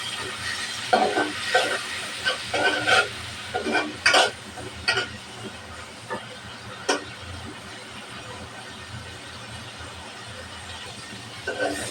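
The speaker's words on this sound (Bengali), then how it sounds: "মাছটা ভালোভাবে ভাজতে নেব।" Shrimp fry in oil with salt and turmeric, a low steady sizzle punctuated by a cluster of clattering stirs and spatula knocks early on, then quieter frying with occasional scrapes.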